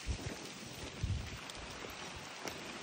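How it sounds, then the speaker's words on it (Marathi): Heavy rain pours down in a rural farm setting, a dense steady hiss with a few louder low thumps of drops or gusts, fairly quiet overall and with no talk. "हे पहा एकदम जोरात पाऊस चालू झालाय"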